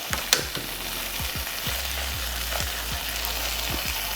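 Épis and garlic fry in a pan, a steady close sizzle with a sharp scrape early on and soft repeated stirring taps, no talk.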